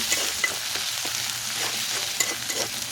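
Garlic paste, added to browned onion and garlic, sizzles in a pan while being stirred, a continuous close hiss broken by soft spatula scrapes.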